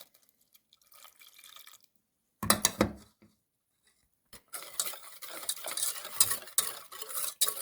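Eggs, sugar and 200 grams of rich homemade whole milk stirred together in a bowl for a Kyiv cake cream: a short burst of scraping and sloshing, a pause, then steady close-up stirring with clinks and liquid swishes.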